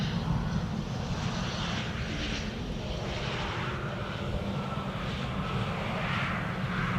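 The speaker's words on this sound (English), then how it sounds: "KLM just now landed here in the sunshine" A KLM airliner landing in sunshine at Amsterdam Schiphol, a steady broadband engine roar holding at an even, moderate level throughout with no talk.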